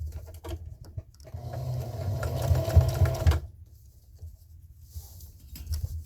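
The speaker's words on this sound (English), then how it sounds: "I am going to sew all the way around, but I am going to leave a space to turn" A sewing machine stitching around a washable reusable fabric kitchen sponge, running in one quick whirring burst of close stitching between quieter pauses.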